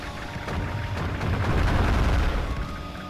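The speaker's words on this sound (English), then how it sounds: "Anti-air, meet the cannons that are shooting the shells that are going to obliterate you." Artillery cannons fire shells in the Advance Wars: Days of Ruin strategy game, producing a rumbling barrage of booms and blasts that swells heavier toward the middle, then eases slightly.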